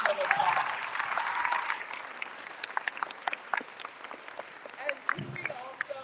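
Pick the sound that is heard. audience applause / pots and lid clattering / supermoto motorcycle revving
audience applause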